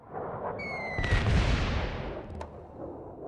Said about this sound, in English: Bombing run failed.